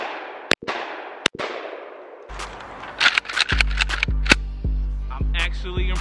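Five sharp shotgun blasts from a semi-automatic shotgun run through a five-round magazine, coming quickly and evenly spaced across the second half. Each blast is loud and booming with a short ring-out, and two quieter cracks come earlier.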